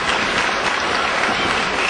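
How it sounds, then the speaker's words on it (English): A wrestling crowd at a three-way dance match roars and applauds steadily, a dense, loud wash of cheering with no break. "And there goes the crowd."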